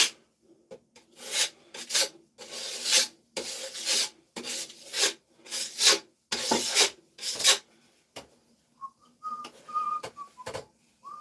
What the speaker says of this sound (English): All right, let's put some more drywall mud on this stuff